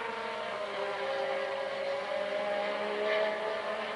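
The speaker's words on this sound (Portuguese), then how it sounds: "Vamos ver o rendimento dos dois motores, do motor francês da Renault, deste carro que você vê aí, do motor alemão da Porsche" 1984 Formula One cars with a Renault engine and a Porsche engine race flat out down the straight at the Brazilian Grand Prix, a continuous high engine whine heard at a distance under broadcast ambience.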